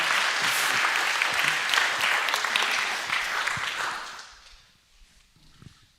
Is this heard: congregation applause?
yes